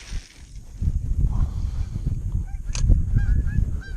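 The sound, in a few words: geese honking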